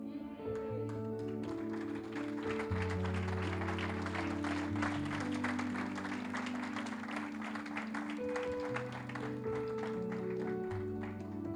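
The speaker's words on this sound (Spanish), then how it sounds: "Ese aplauso, ¿por qué fue?" A church congregation applauds together over sustained organ or keyboard chords, the clapping dense and steady throughout at a moderate distance, with music carrying underneath the whole time.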